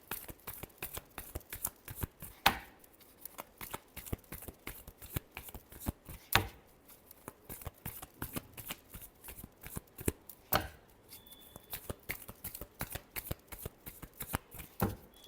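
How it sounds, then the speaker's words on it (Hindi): Tarot cards shuffled by hand in a quiet room, a long run of dense, crisp riffling flicks close to the microphone, with a few sharper slaps along the way. "Last shuffle."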